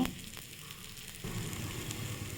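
Dosa batter sizzles in hot oil on a pan, a steady, close frying hiss that swells louder partway through as fresh batter hits the surface, with no voices.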